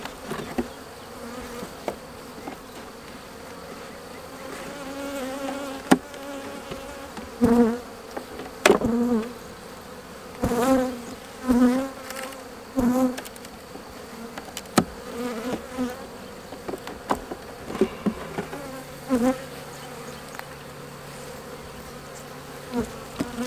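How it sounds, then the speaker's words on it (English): Bees buzz steadily in a hive, a dense droning hum with louder bursts as individual insects fly close to the listener. "there's definitely bees in there."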